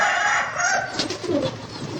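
Soft pigeon cooing close by, a few low throaty calls over a busy background of rustling and distant chatter.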